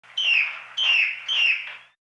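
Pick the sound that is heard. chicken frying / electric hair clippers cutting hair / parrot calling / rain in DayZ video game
parrot calling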